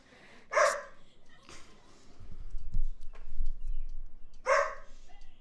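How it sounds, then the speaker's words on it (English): A dog barks twice, a few seconds apart, each bark loud and close, with quieter room noise and low rustling between them. "Will you shut up, dog?"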